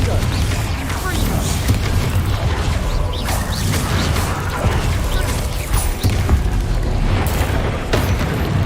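Confringo fire-blast spells bursting in Hogwarts Legacy during a live play session, a dense run of booming explosions and crashing impacts over a rumbling game soundtrack, with a voice calling out spell names over it.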